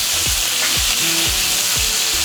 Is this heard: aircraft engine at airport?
no